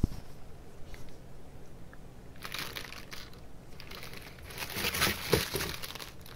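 Plastic packaging around a new HJC i10 motorcycle helmet is unwrapped, with close crinkling, rustling and crushing that begins after a quiet start and grows busier toward the end.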